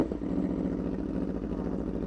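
An Aprilia RSV4 superbike engine runs at a steady idle, a low, smooth, rumbling drone heard close and fairly quiet, with no voices over it.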